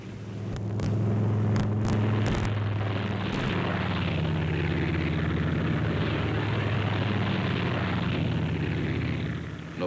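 A World War II P-47 Thunderbolt fighter takes off with a loud, sustained piston-engine roar and deep rumble, heavy and continuous throughout, preceded by a few sharp crackles at the start.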